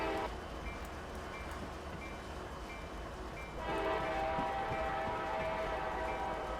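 A locomotive horn sounding in Train Simulator 2019 while a coal train runs through a street section in the NS Coal District. A steady low rumble runs throughout, and the horn becomes louder and fuller partway through.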